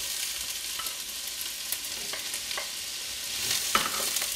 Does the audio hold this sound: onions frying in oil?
yes